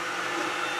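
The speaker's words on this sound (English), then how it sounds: "I'm going to try to take the heat gun to the outside and see if I can get it loosened up somehow." Heat gun blowing hot air onto a clogged hot end of an AnyCubic i3 Mega 3D printer, a steady, loud, close whooshing roar with no variation over the brief moment.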